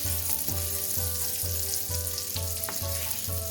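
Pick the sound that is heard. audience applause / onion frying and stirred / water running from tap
onion frying and stirred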